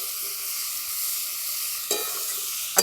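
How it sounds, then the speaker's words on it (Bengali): Vegetables, including onion greens, sizzling as they fry in a pan near the end of cooking, a steady close hiss with a brief stirring clatter partway through and another sharp knock at the end. "সবজিগুলো আমাদের প্রায় ভাজা ভাজা হয়ে গেছে।"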